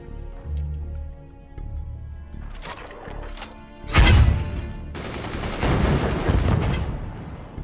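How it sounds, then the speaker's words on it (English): Mortar fire in the siege-building game Forts: a heavy boom hits midway, then a long, rumbling roar follows, with smaller clatters and impacts earlier on. "incoming enemy mortar"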